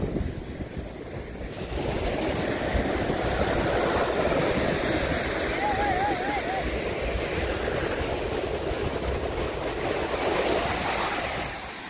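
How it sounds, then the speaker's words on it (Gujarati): Calm sea surf washing onto a shore, a steady broadband roar that swells after the first two seconds and holds, with wind buffeting the microphone and no clear talk. "શાંત દરિયો છે અત્યારે"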